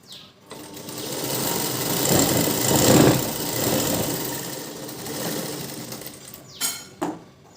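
A sewing machine stitches a cup for a double-cup blouse, whirring steadily for several seconds before slowing, with a couple of short final bursts and then stopping.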